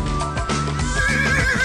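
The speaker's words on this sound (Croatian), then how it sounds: "predstavljamo jednog predstavnika teških konja, englesku rasu Shire" A Shire, a heavy English draft horse breed, lets out a loud, close neigh, a wavering whinny that rises and trembles across its length, heard alone without speech.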